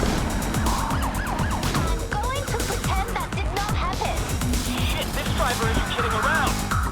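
Police car sirens wail continuously during a chase in Need for Speed Heat, overlapping rising and falling tones layered over roaring car engines and game effects, with voices talking throughout.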